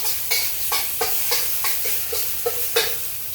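Garlic and ginger sizzle in a pan for egg fried rice, a steady hiss punctuated by regular stirring scrapes roughly every half second, fairly quiet.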